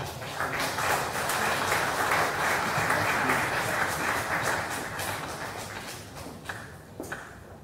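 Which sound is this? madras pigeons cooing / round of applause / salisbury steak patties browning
round of applause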